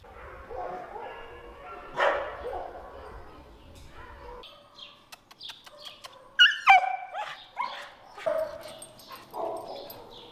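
Dogs bark in an animal shelter in Wrocław: scattered loud barks and yips, some close and sharp, others further off, with whimpers and quiet gaps between bursts.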